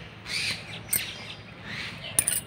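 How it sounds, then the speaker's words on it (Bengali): Pet birds chirp and call in short bursts, with a couple of high, sharp squawks rising out of a faint room hush. "আর আমার পাখিগুলো ক্যাচ ক্যাচ করে দেখো না, ডাকছে আর ঘুরে বেড়াচ্ছে।"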